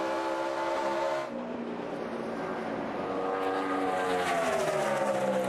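NASCAR Sprint Cup race cars roar around Atlanta Motor Speedway in 2011, a continuous loud engine drone with rising and falling pitch as the pack passes.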